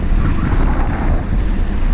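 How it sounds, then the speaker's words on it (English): Strong wind roars steadily across the microphone at the top of the Montu roller coaster in Tampa, a loud, continuous broadband buffeting with no voices, alone for the full two seconds. "it's nice and breezy up here"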